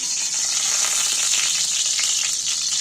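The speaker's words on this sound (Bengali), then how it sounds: "এবার আমি মাংসটা তুলে দিচ্ছি তেলের মধ্যে" Chicken pieces fry in oil left over from frying onions, for a chicken biryani, giving a loud, even, continuous hissing sizzle with no breaks.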